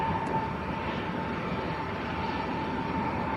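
A Jet2 Airbus A321neo in Jet2 Holidays livery at Leeds Bradford Airport, a steady broadband engine roar with a faint tonal whine, sustained and moderately distant without any talking.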